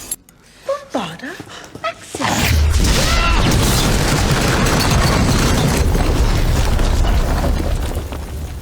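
A spell explosion from the Harry Potter film Order of the Phoenix, a heavy boom that erupts after about two seconds of quieter sound and rolls on as loud, dense rumbling and crashing debris to the end, with voices underneath.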